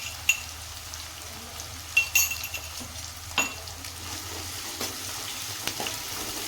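Onion with a spoonful of garlic paste frying in a pan: a steady soft sizzle with occasional sharp clinks and scrapes of a spoon stirring against the metal, close and without any talking.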